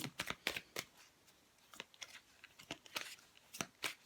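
Tarot cards are shuffled in quick, crisp riffling bursts, close and quiet, repeating irregularly with short pauses between them.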